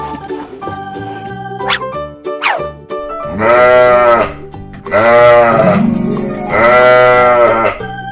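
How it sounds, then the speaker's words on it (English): Sheep bleat several times in loud, wavering calls over light background music in a farm setting. "Sheep."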